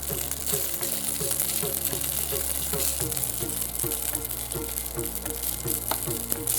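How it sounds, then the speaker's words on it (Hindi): Boiled ragi millet is mashed into a hot pan of sizzling fat, with a continuous frying hiss and repeated soft scraping and pressing strokes. "इसको थोड़ा सा मैश करना है हमने पैन में डालने के बाद।"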